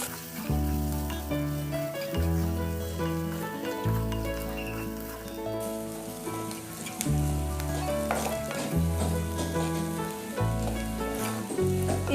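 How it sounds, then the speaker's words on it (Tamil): Onion and grated coconut sautéing in a pan, a steady sizzle and crackle with rhythmic stirring strokes scraping through it over several seconds. "சேர்த்து நல்லா ப்ரௌன் ஆகிற வரைக்கும் வதக்கிக்கலாம்."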